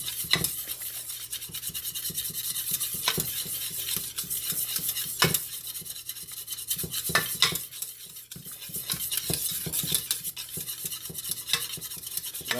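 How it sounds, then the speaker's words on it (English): Gravy mix whisked in a pot for turkey wings makes a fast, continuous scraping rattle of a whisk against metal, close and alone, with brief pauses and a few louder knocks. "We're gonna whisk that up."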